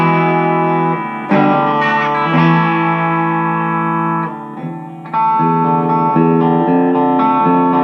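A Fender Telecaster JV Modified 60's plays distorted chords and notes straight into a Marshall amp, with sustained, buzzy tones, a few short gaps between phrases and no talking.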